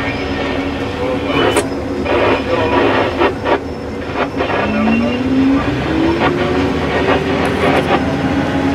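A train passes on a rail line between Nebo and Glenden, a loud steady rumble with rhythmic clicking of wheels and a brief rising squeal, heard from close by with faint radio talk.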